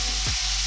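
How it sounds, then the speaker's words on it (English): Steak marinade with garlic hitting a hot cast-iron pan, giving a loud, steady sizzle that fills the brief moment. "now we're going to add the remaining marinade that we had our steak in"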